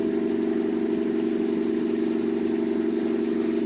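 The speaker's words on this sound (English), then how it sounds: "it looks like my car's running alright." A car engine idles steadily with a constant low drone and even hum, unchanging throughout with no voices.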